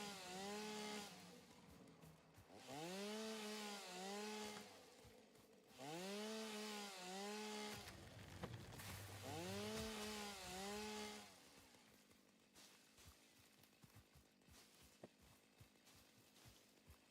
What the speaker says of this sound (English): Gotta love the chainsaw.